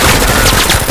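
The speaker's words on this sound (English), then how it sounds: "light him up with the SMG" Continuous loud SMG fire in the sci-fi tactics game MENACE, a dense close-range burst filling the whole moment with rapid cracks.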